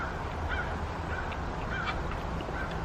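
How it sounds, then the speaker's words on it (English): Birds call outdoors: several short honking, goose-like cries spaced a second or so apart, moderately near, over a steady broadband background hiss and rumble, with no talking. "Hopefully you enjoy the bird noises."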